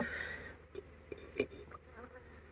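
Agitated honeybees buzz in a constant drone, with a louder one zipping close past several times; faint clicks and taps scatter through.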